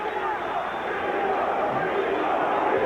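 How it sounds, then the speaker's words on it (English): A boxing arena crowd at the Diego Corrales vs Angel Manfredy fight roars with massed voices, a dense, sustained wash of chanting and shouting that stays loud throughout. "Part of the crowd chanting Chico, Chico, Chico"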